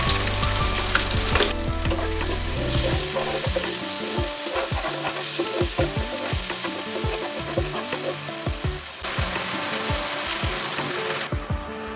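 Young gourd (jali) sizzles in hot oil with dried red chili in a home kitchen, a steady frying hiss broken by repeated scraping and stirring strokes of a spatula against the pan.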